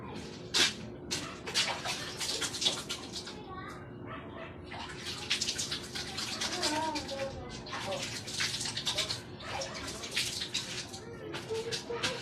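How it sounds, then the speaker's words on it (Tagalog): Hands are washed under a running tap, with a steady splash of water broken by irregular bursts and drips. Voices talk faintly in the background. "Kasi maghuhugas pa tayong kamay."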